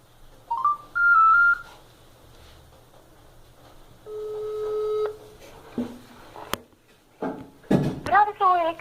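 Phone tones ring out during a call to a friend: a few rising beeps, a long steady tone, then short bursts of electronic chirps in a quiet room.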